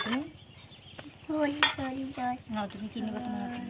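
Cutlery and plates clink during a village lunch of onion-stalk and potato fry with fish, eggplant and potatoes, with light scraping and taps close by over a low steady hum.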